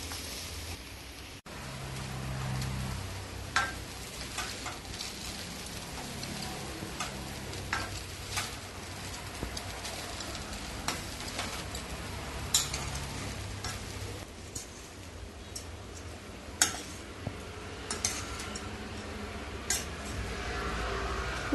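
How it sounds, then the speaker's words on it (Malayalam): Cooked rice and mango being stirred together in a pan, with a spoon scraping and ticking against the metal in a steady series of soft clinks over a faint sizzle. "ഇനി ഇതിലേക്ക് വേവിച്ച് വെച്ച റൈസ് ചേർത്ത് ഇളക്കി മിക്സ് ചെയ്യാം."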